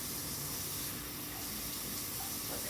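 Tap water runs steadily into a container for mixing paper mache, a continuous broadband rush of flowing water, close and even in level with no talking.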